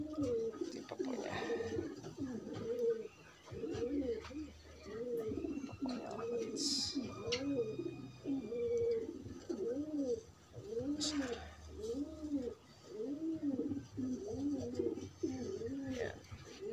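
Pigeons coo in a steady rhythmic series of soft, throaty bursts, close by, with faint chirps and background noise.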